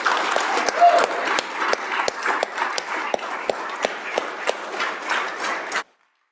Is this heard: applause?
yes